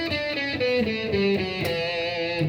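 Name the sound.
E Dorian mode scale shape played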